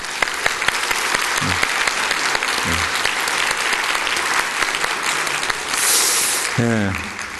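A church congregation applauding on a Sunday service for a long-serving member stepping down, a full, sustained roar of clapping filling the sanctuary, with brief voices rising briefly near the end.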